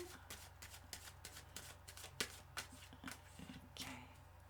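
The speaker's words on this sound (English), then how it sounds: "I'm going to shuffle again." A deck of tarot cards being shuffled by hand, a series of soft riffling flicks and slaps at close range, quiet over a low steady hum.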